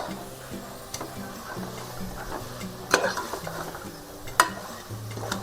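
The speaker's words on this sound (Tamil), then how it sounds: "நல்லா வெங்காயம் தக்காளி எல்லாம் மசாலாவோட இந்த சோயாவும் நல்லா கலந்து விட்டுக்கலாம்" Soaked soya chunks are stirred into a frying onion-tomato masala for soya chunk biryani, a soft steady sizzle under occasional spoon scrapes and two sharp metallic taps against the pan, close and moderate.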